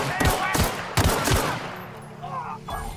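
Gunfire from a gunfight in The Outer Worlds: several loud, close bursts of rapid shots crack in quick succession, then taper off into quieter game sounds.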